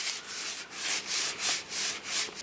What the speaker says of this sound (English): So all you do is take a wipe, clean the area